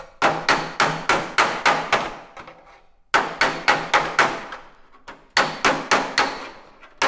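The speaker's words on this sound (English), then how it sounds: "I actually found what worked best was this hammer, believe it or not." A bodywork hammer taps a dented, oil-canned car panel against a dolly, rapid ringing metallic blows in three runs of about seven strikes each, close and crisp with brief pauses between runs.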